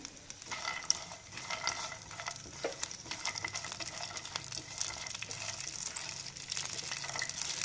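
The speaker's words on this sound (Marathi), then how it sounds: "आता आपण याच्यात आपण जे ड्रायफ्रूट्स घेतलेले आहेत, काजू, मनुके आणि बदाम, ते छान भाजून घेऊया." Cashews, raisins and almonds roasting in ghee for sheer khurma crackle with a steady, close sizzle and occasional stirring scrapes, continuous and moderately loud with no talking.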